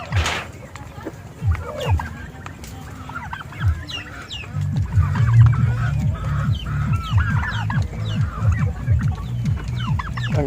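Turkeys and chickens cluck and chatter continuously nearby, many birds overlapping in busy irregular calls, with a low gobbling-like rumble building partway through.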